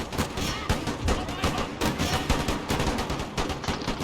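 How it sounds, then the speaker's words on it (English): Musket volleys and gunfire crackle from a battle in the video game Empire: Total War, a dense, continuous stream of overlapping shots with sharp repeated bursts at close range. No one speaks. "The volley from here should be starting any minute now."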